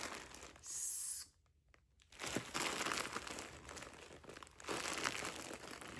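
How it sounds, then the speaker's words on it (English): Crinkly plastic packaging of a bag of Hayfield Spirit double knitting yarn being handled, loud bursts of rustling and crumpling broken by a short quiet pause, close by with no talk. "sorry for the rustling"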